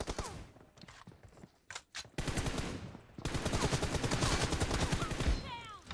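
Rapid gunfire from the PUBG Mobile shooter game crackles in long dense bursts with a few short pauses, while a player talks at times over it.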